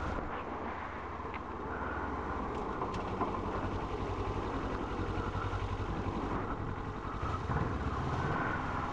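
A motorcycle engine idles steadily and close by, a low continuous rumble with a slight rise in throttle near the end.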